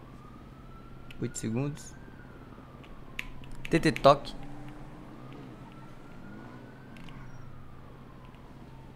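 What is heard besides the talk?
distant ambulance siren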